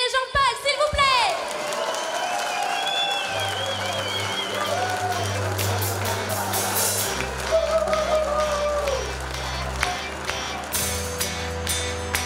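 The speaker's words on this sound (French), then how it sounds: "je vous demande, s'il vous plaît, de faire un tonnerre d'applaudissements pour Muriel et Jean-Paul, s'il vous plaît!" Audience at a birthday celebration applauds and cheers loudly for a couple entering the dance floor, a dense wash of clapping and shouts with voices mixed in and a band starting up underneath.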